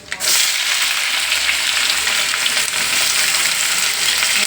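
Mustard seeds, onion, curry leaves and Guntur dried red chilies fry in hot oil for vangi bath, a loud, constant close sizzle that starts abruptly and holds steady, with no voices.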